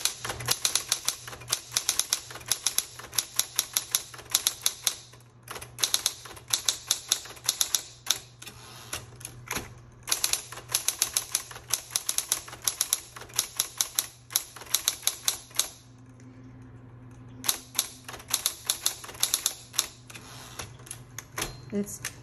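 A repainted 1960s Electra 120 manual typewriter clacks through sentences in fast, uneven bursts of sharp keystrikes, with short pauses between runs and a low hum beneath.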